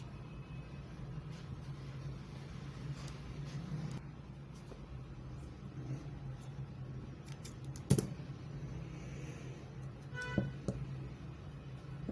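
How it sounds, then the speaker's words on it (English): Scissors snip off the excess thread after tying a knot on a hand-sewn V-shaped turban cap, giving a couple of brief, sharp close cuts over a steady low background hum. "Then I'll proceed to tie my thread and then cut off the excess thread."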